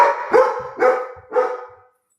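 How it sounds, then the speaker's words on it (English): A dog barks three times in quick succession, loud and close, then falls silent. "You have to stop barking."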